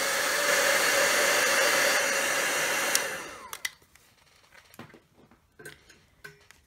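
A hair dryer blows loudly and steadily for about three seconds while drying a painted background panel for a paper craft, then switches off, leaving light tapping and handling sounds.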